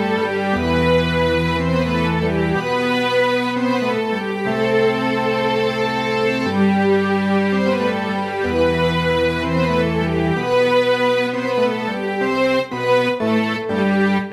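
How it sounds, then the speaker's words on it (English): A Nord Electro 6D plays a mixed layer of organ, electric piano and strings, sustained chords changing every couple of seconds in a steady, full-bodied texture with no talking. "I have like an electric piano on the background and some strings,"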